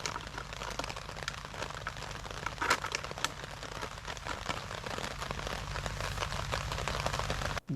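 Rain falls on a tropical island, a dense, steady crackling patter of drops hitting surfaces close by, continuous for several seconds with a few sharper spatters and no voices.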